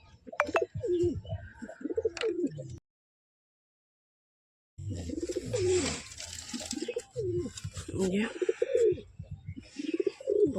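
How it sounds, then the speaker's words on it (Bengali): Caged pigeons cooing nearby in repeated throaty, rolling calls, with a short silent gap midway and some faint background noise. "এখানে একটা নতুন অতিথি পায়রা আছে ধরা।"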